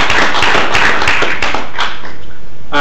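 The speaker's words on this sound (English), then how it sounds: "give one final round of applause to the elected councillors" A public gallery at a council meeting gives the newly elected councillors a round of applause. The close, loud clapping is heavily clipped and tapers off toward the end.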